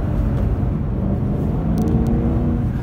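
A 2010 Ford Shelby GT500's engine pulls hard as the car accelerates, a loud, steady low rumble with a continuous whir, close and unbroken for the whole stretch with no talk over it.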